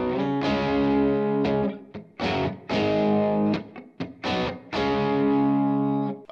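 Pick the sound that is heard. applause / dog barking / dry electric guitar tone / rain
dry electric guitar tone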